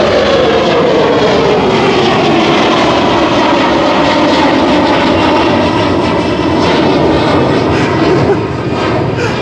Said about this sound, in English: Look at that takeoff.